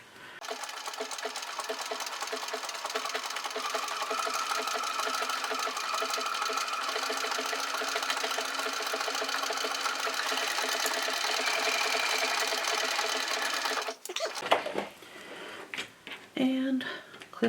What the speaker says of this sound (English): my blanket stitch on my sewing machine